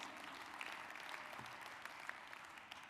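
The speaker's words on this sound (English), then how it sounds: "Give him a round of applause, please." Audience applause at an NAACP annual convention: a continuous wash of many hands clapping, steady and somewhat distant, faint overall.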